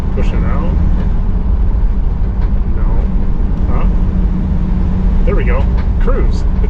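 Sprinter T1N van cruising on the road, a constant low road and engine rumble heard from inside the cab, with people talking over it.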